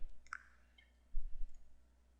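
A computer mouse gives a couple of sharp, close clicks near the start, followed by faint low handling noise in a quiet room.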